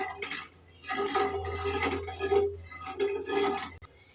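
Sugar is added to a pan and stirred in, heard as repeated scraping and clinking of a utensil against metal in uneven bursts, close and moderately loud, with no talking.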